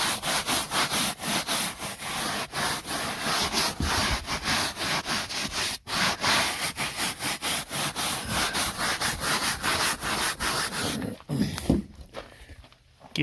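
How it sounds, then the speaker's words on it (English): A Plymouth Sapporo car gets a vigorous scrub-down, with continuous rhythmic brushing strokes in quick, steady repetition, loud and close, briefly pausing before thinning out near the end. "Give it a good scrub down."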